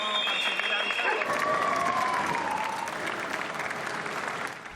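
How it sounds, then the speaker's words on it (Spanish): People confined at home applaud at midnight, dense clapping from many hands that sounds distant and spread out, with a faint whistle and voices mixed in before it tapers off. "se convirtió en aplausos, en muestras de agradecimiento"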